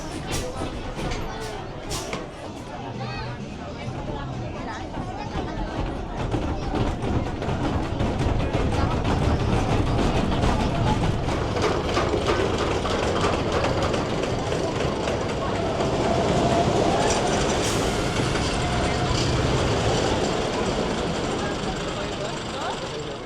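Tomahawk, a short wooden roller coaster at PortAventura, rattles and rumbles along its track in a loud, continuous roar of wheels and wind, close up, with riders' voices mixed in.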